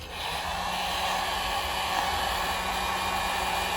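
A heat gun blows steadily at close range while warming the cover material of a center console armrest, a continuous even airy hiss with no talk.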